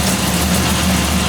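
A 1940 Ford car engine idles steadily close by, giving a low, even rumble with a constant drone and no change in revs, alone without voices.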